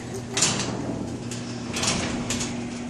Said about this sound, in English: even if the garage door opens